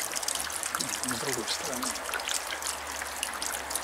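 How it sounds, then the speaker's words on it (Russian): Water drips from a leak in a quick, irregular patter of small drops with a faint trickle behind them, while someone talks in Russian over it. "Я не пойму, вот это капает откуда?"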